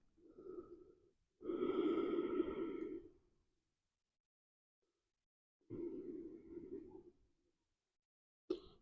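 Slow, audible breaths while holding yoga child's pose, kneeling with hips over heels and forehead down: a soft inhale, then a long heavy exhale, a pause of near silence, and another long breath, close and alone.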